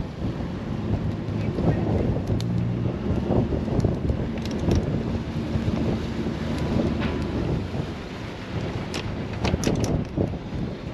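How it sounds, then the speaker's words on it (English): Strong wind buffets a Leopard 45 sailing catamaran while weighing anchor, a steady loud roar with gusty microphone rumble and faint water and rigging noise, and no one talking. "the wind is strong"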